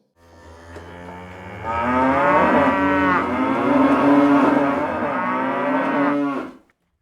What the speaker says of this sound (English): And now, the sounds of most of the cows in Wales.